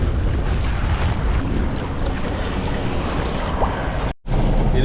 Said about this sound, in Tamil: இந்த அலைகள் வந்து அடித்து வந்து தண்ணீர் வீதிக்கு வருது